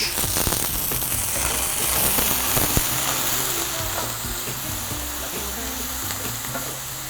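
Diced eggplant and other vegetables frying in a hot pan for a shakshuka, a dense, continuous sizzle and crackle with some stirring, close and steady throughout, no voices.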